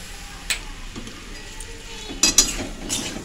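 Pointed gourd filling is mixed with salt in a pan over a very low flame, with soft scraping and scattered metallic clinks, then a few sharper knocks against the pan's edge.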